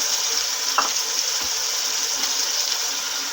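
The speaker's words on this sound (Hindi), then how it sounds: "मसाले को भून लेंगे अच्छी तरह" Spices including turmeric and garlic-ginger sizzle steadily in a pan for a turnip and meat curry, a constant close frying hiss with a faint clink, no talking.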